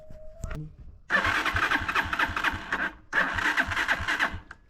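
A motorbike engine cranks and catches on a Kenyan highway, with two loud bursts of rough mid-pitched revving separated by a brief pause, after a short faint tone at the start.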